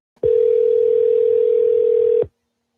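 A single steady telephone ringback tone from an outgoing phone call, one continuous loud beep lasting about two seconds before cutting off into silence.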